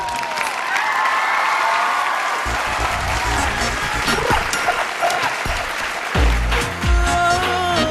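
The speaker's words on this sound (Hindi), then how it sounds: "जोरदार तालियां इनके लिए।" Loud audience applause with some cheering for the winning group at a televised talent contest fair in Lucknow, continuous clapping over background music and low thumping beats.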